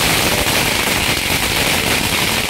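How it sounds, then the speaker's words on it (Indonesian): A rapid, dense string of firecrackers crackles loudly and continuously after ghost-month offerings in front of a house in Taiwan, set off to drive away wandering spirits. "ini mau nyalain petasan untuk mengusir arwah-arwah gentayangan"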